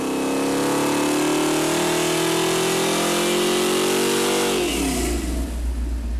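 A carbureted small-block V8 built from catalog parts roars at full throttle on an engine dyno, its pitch climbing steadily for several seconds before the throttle snaps shut and the note drops into a deep, rumbling idle.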